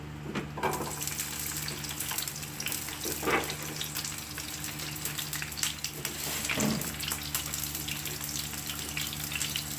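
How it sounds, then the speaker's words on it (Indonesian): Soft continuous sizzling of garlic sautéing in oil in a pan over medium heat, with a few louder crackling bursts and spatters rising over the steady hiss. "saya pertama adalah menumis bawang putihnya dulu"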